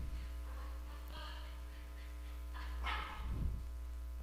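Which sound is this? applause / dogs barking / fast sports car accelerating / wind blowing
dogs barking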